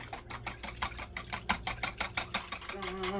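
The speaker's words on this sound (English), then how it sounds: "now we're going to whisk it until it's nice and smooth" Custard mixture with water being whisked in a bowl until smooth, a fast rhythmic clatter of regular strokes, close and fairly loud, with a voice coming in at the end.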